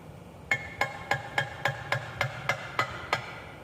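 Dried gasket maker cracks loose as a flat-head screwdriver pries at the transmission case of a Case 310 dozer, giving about ten sharp, evenly spaced metallic taps at a steady rhythm, close and distinct against a low hum.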